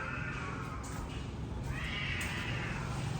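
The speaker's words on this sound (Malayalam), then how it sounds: "പൂച്ച കരയാം" A house cat meows faintly a couple of times behind a steady, hissing indoor background.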